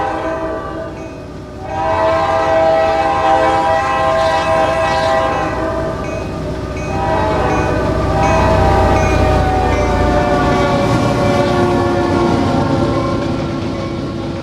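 A Norfolk Southern freight train in the Trainz 2022 video game rumbles steadily past at 42 mph with a sustained horn blast layered over the rolling wheels, loud and continuous throughout.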